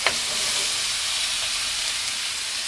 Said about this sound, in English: Ooh, look at that sizzle.